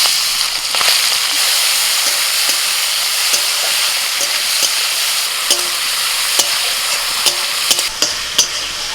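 Shrimp frying in hot oil in a pan, a steady loud sizzle with repeated sharp crackles and stirring scrapes throughout, no voices.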